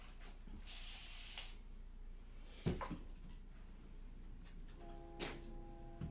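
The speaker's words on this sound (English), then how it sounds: "what I'm basically going to do is spray this again" A spray bottle mists water over an acrylic flower painting in two quick hissing bursts, close and clear, followed by light handling knocks and a faint tone near the end.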